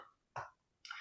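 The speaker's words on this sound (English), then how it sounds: "sorry, I'm going to cough" Two short, muffled coughs spaced apart, close to the microphone and fairly quiet.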